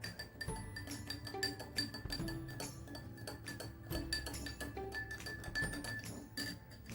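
A spoon clinks rapidly against the inside of a glass while stirring salt into it, a quick, steady stream of light ringing taps, close and quiet.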